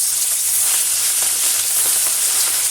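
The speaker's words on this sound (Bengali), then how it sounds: "মাছটা ভাজার জন্য কড়ার মধ্যে আমি সরষের তেল দিয়ে দিচ্ছি।" Puti fish fry in hot mustard oil in a kadai, giving a loud, dense, continuous sizzle and hiss that fills the whole span close up, with no talking.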